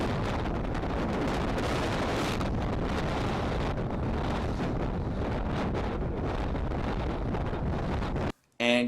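Strong north wind whipping a fishing boat on a lake in snow and sleet, a continuous loud roaring rumble of wind buffeting the microphone that drops out abruptly near the end.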